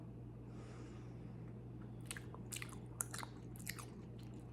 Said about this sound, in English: sometimes I feel like you have to chew bubblegum type gum for a little while before you can blow a bubble.